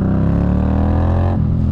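A 2018–2019 Indian chopper motorcycle with a 1133 cc, 100 hp engine revs loudly and close, its tone climbing steadily before dropping sharply as the throttle closes near the end, with no talking.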